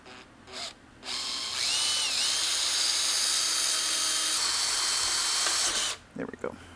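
A power drill boring a hole in a Suzuki DR650 motorcycle rim for a rim lock, whining loudly and steadily for about five seconds after a couple of short bursts, close and dominant, then stopping with some clatter.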